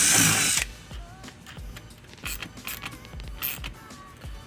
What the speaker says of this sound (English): And we'll tighten it using a 3/8 socket.